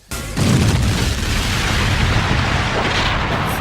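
Missiles blast in an animated Sonic the Hedgehog film: a sudden, loud booming explosion that roars on as a sustained rumble after a brief quiet start.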